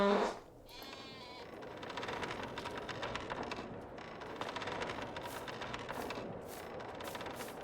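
Sheep bleating on a farm in a farming simulator game, several calls spread across the stretch over a steady background hum, moderately loud and without talk.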